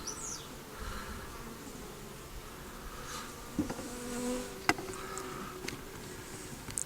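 Honeybees buzzing around an open top bar hive during an inspection, a faint, steady swarm hum with individual bees droning past close by and a few light knocks and clicks.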